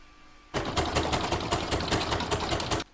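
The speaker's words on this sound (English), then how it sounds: "I'm going to pop this into my machine and stitch round number 8, which will zigzag all the way along the join" An embroidery sewing machine zigzag-stitching along an appliqué join, a loud, close, rapid rhythmic needle clatter that starts abruptly and runs steadily for over two seconds before stopping.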